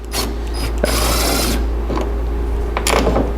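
A Hercules 12-volt lithium-ion cordless driver with a T30 bit backs fasteners out of a Jeep Liberty KJ rear tailgate, giving loud close whirring bursts of the motor with short pauses and ratcheting clicks between them.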